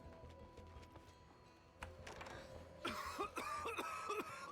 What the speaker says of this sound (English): Now he's coughing.